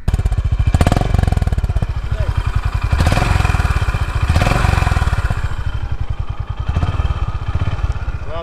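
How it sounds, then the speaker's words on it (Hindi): A Honda Hness motorcycle idles close by with a steady, rhythmic engine thump and light mechanical clatter, holding even throughout while a voice talks intermittently over it. "अभी बाइक आइडल पे खड़ी है"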